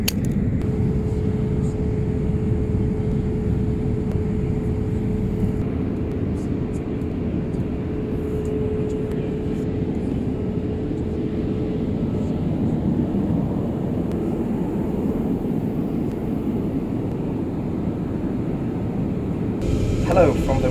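Steady, loud broadband roar inside the cabin of a Boeing 787-8 in flight, heard from the rear lavatory on an economy flight, with a faint tone and a brief click near the end, no talk.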